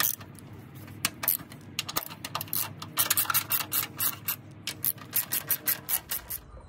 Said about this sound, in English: we're gonna loosen those 10mm bolts right here and right here.